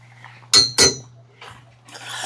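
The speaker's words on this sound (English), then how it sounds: "And here we have some cutlery" Camping cutlery handled near a rooftop tent, two quick, bright metallic clinks close by, then softer rustling and shuffling.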